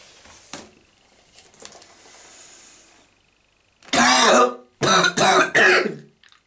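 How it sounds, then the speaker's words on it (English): After a quiet stretch with faint rustling, a person wearing a German M65 gas mask erupts into loud, harsh coughing and spluttering in a few rapid bursts. "I'm going to cough and splutter everywhere"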